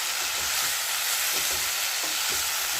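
Leafy greens stirred and fried in a pan, giving a steady loud sizzle with a few soft scraping strokes of the spatula throughout.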